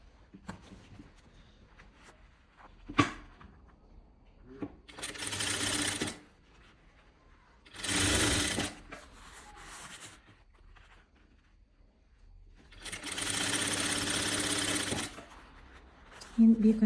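A sewing machine stitches a dress seam with the facing turned right side out, running in three separate bursts of several seconds each, with quiet handling sounds between them.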